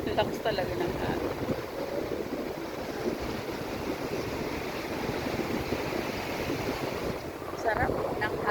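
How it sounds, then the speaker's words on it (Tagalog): Strong sea waves roll and wash continuously at the far end of a seaside walk, with steady wind buffeting the microphone throughout; surf noise stays loud and dense, swelling slightly near the end, and no one speaks. "Ang lakas talaga ng alon."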